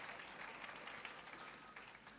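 An audience at a university World AIDS Day event and tenth-anniversary celebration claps steadily, a soft, distant patter of many hands without a clear peak.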